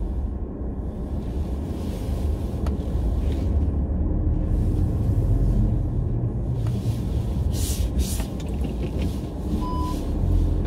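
A car rumbles steadily as it drives in, its low engine drone mixed with wind buffeting the microphone, with no voices over it.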